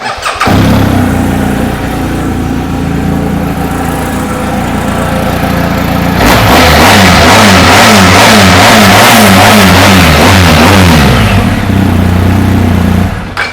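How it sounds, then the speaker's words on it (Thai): A 2020 BMW R1250GS HP motorcycle engine runs close and loud. It idles for several seconds, then revs repeatedly in quick rising and falling bursts before settling. "ลองฟังเสียงเครื่องยนต์กันดูครับ"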